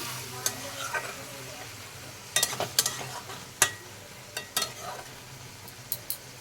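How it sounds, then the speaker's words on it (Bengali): A spoon stirs tomato prawn curry in a sizzling pan, with a steady frying hiss and scattered scraping clinks against the metal, close and alone without talk. "সবগুলোকে ভালো করে নাড়িয়ে নেব।"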